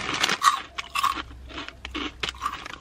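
Crisps being eaten close up, with a run of sharp, loud crunching bites and chews in quick irregular bursts and short pauses between them, no talking.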